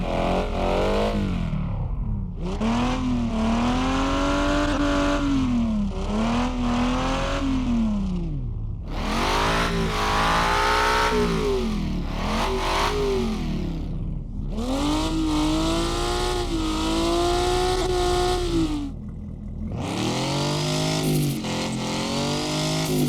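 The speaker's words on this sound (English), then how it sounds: "The engine sounds are surprisingly well crafted and pleasant, and there are shit tons of them." Car engines in an indie street racing video game rev repeatedly through the gears, each loud rising pull ending in a shift or drop, in a steady series of accelerations without talking.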